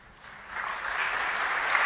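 Church congregation applauding together, a dense wash of many hands clapping that starts moderate and swells louder and steadier, with no talk over it.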